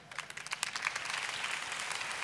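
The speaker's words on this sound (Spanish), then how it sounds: "Un fuerte aplauso para la voluntaria." Applause for a volunteer at a stage hypnosis show, a dense, fairly quiet wash of clapping from the audience that stays steady throughout.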